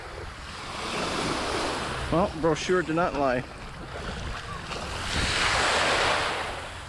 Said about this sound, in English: Off to the ocean I go, which is supposedly supposed to be crystal clear.